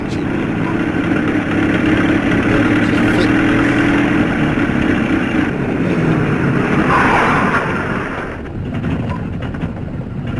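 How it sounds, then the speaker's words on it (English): Vehicle engine idling in the game Fallout: New Vegas, a steady continuous mechanical rumble that holds loud and even for about eight seconds before easing slightly near the end, with no speech over it. "Noisy engine."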